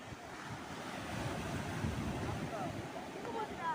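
Sea waves washing onto a beach, a steady broadband roar of surf with gusty wind noise on the microphone, continuous and fairly close throughout.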